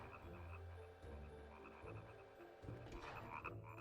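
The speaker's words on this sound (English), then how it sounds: "Oh, I hear more frogs." Frogs croak in a dark game world from Nightmare Before Christmas: Oogie's Revenge, repeated low croaks pulsing steadily over eerie background music, fairly close and moderately loud.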